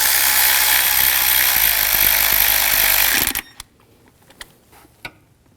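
A power tool drives ignition coil bolts on a 2001-2009 Volvo S60, a loud buzzing whir for about three seconds that stops abruptly, followed by a few faint clicks.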